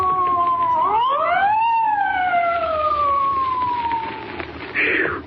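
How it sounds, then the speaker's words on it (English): A police car siren from a radio drama sound effect rises and then glides down in a long wail, loud and close, with a brief burst of noise near the end. "Spike, there's a police car coming up."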